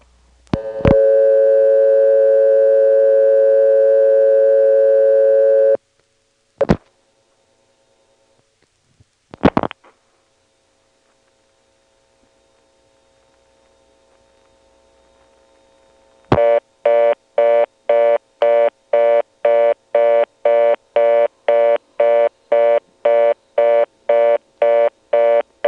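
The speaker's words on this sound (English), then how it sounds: "I guess we can start out by dialing 67 and just waiting for the switch to time out" Step-by-step telephone exchange in Ramseur, North Carolina, 1977: a dial tone, dial clicks after partial dialing of 67, a short quiet timeout, then a loud regularly pulsing busy-style tone, heard directly on the line.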